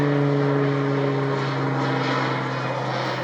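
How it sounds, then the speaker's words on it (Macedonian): Air Tractor firefighting planes from the civil protection directorate fly low over a wildfire near Kavadarci, a steady, loud propeller-engine drone with a constant harmonic hum filling the whole stretch. "Ридестите предели од каде избиваше чарот беа надлетувани и полевани со вода од 3 ер-трактори на Дирекцијата за заштита и спасување."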